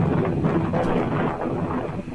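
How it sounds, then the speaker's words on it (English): Spring wind buffeting a remote caller's microphone outdoors in cold weather, a rough continuous low rumble and gusty roar that fills the short stretch without voices. "He looks like it's cold and it sounds windy where he's at."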